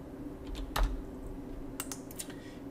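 Computer keyboard typing close by, a few sparse clicky keystrokes including the backspace key, with one firmer tap followed by a quick cluster of presses, against a faint room hum.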